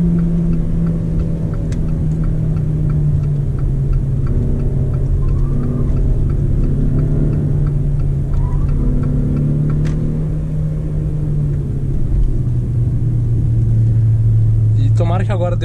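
Steady engine drone of a 2018 Jeep Renegade 1.8 with manual gearbox, heard onboard while driving, a continuous low rumble that holds even and then shifts pitch slightly near the end, with a voice talking over it.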